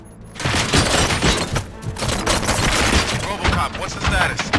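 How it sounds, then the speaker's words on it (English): Bursts of gunfire fill a RoboCop: Rogue City video game scene, a loud, dense fusillade of shots and booms running throughout with some crowd noise and voices mixed underneath. "Gunshots?"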